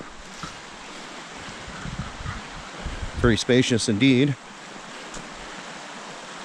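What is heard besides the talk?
Carson River flowing at a bikepacking campsite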